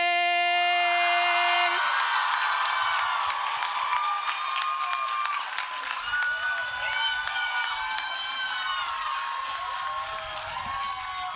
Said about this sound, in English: Let's give another round of applause for Mia Calore